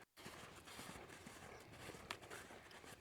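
A horse ridden forward under its rider, hooves clip-clopping in a steady walking rhythm, close and fairly quiet beneath a constant wash of outdoor noise.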